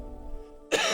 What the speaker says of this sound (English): excuse me, still have a little bit of cough.